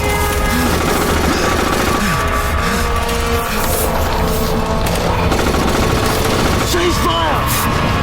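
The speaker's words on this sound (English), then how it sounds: "Return fire!" Sustained battlefield gunfire as soldiers return fire, loud and continuous with dense bursts and booms throughout, voices shouting beneath the racket.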